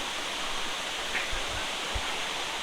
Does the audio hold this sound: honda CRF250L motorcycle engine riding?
no